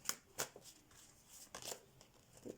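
Tarot cards being shuffled for a reading, with a few soft riffles and slaps in quick, uneven bursts, close and fairly quiet.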